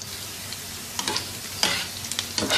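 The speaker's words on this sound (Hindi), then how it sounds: "एक दरमियाने साइज़ का प्याज स्लाइसिस में कटा हुआ शामिल कर देंगे।" A medium onion, cut into slices, fries in three to four tablespoons of oil on a tawa, soft steady sizzling broken by several sharp scraping stirs close by.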